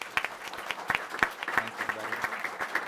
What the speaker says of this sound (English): So can we give them a quick round of applause?